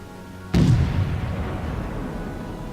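Warship cannon fire in the naval video game World of Warships, with a Wyoming battleship in the action: a single loud, sudden boom followed by a long rumbling decay over steady background noise.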